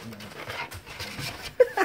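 A puppy whimpers and pants close by in a brief burst, with soft breathy huffs and a short high whine near the end.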